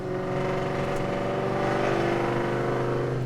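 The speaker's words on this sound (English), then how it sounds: "when I downshifted to second, it pretty much was already there" A manual Ford Mustang with a 700hp engine revs loudly and steadily up close as it downshifts to second gear with a throttle blip, its engine tone holding strong throughout.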